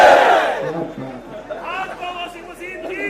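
At a political walkathon rally, a crowd lets out a loud, brief collective shout of a slogan right at the start, then it fades into one person talking over murmuring voices.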